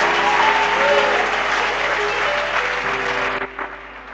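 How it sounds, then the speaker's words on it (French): Church congregation applauding the Lord during a worship service, a dense, loud wash of clapping that holds steady for several seconds, then thins and fades near the end. "On acclame le Seigneur"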